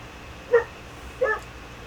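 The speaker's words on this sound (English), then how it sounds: "Sounds like she wants in again, her dog. She's barking." Two faint, short dog barks or yips, about a second apart, heard from a distance against quiet background hum.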